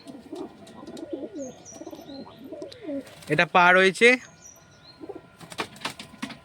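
A sudden burst of loud wing flapping from a pigeon close up, lasting about a second, between quiet speech and handling noises.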